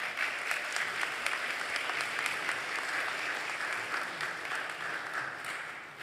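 Audience at a university scholarships and awards ceremony applauding, a steady, fairly faint wash of clapping heard from a distance that fades slightly toward the end.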